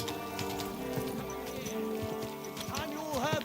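Horse hooves clip-clop in Kingdom Come: Deliverance II, a steady rhythm of clopping steps under game music and other in-game sounds, with people talking throughout.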